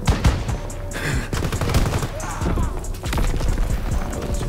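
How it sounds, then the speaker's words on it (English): Rapid bursts of gunfire with incendiary rounds in a World War II shooter game, dense crackling shots fired in quick succession with brief gaps, loud and close, with a voice talking over them. "Ooh, incendiary rounds."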